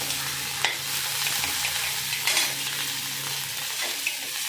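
Chopped ginger, green chili and curry leaves sizzle steadily in a frying pan, with a few quick stirring scrapes cutting through the constant crackle.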